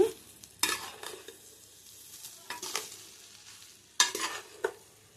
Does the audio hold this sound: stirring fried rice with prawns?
yes